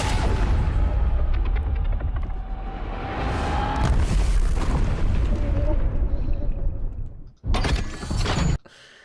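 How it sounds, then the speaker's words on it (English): A designed sound effect of a donkey launched from a cannon into a volcano: a loud booming launch followed by a long rumbling roar, the sound cutting out abruptly before a final short burst. "a donkey is launched from a cannon into a volcano"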